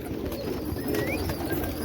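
Pigeons in a pigeon house coo faintly in soft low murmurs over a steady background of noise, with no one speaking.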